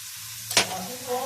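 Green chillies drop into a hot pan for spicy chicken macaroni, giving one sharp burst of sizzling followed by a steady frying hiss.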